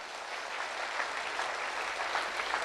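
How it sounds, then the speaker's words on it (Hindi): A crowd gives a strong round of applause at a gathering, sending out dense, continuous clapping that stays fairly loud and even throughout, with no voices breaking through. "उनके लिए भी एक बार जोरदार तालियां बजाइए"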